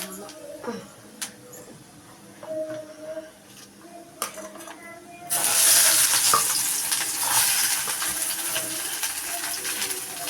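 Urad dal and dried chili go into hot oil for a tempering. Soft clinks and utensil taps come first, then a loud, bright sizzle bursts in midway and holds steady to the end.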